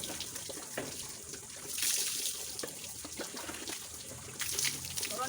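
Water splashes and pours while pets are bathed, a steady close rush of running water with bursts of louder pouring.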